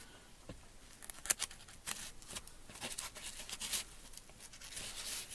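Quiet, close snipping and rustling as scissors cut X-shaped openings into Trek Armor seat cover fabric for the headrest of a 2013 Jeep Wrangler, with short crisp cuts repeating irregularly.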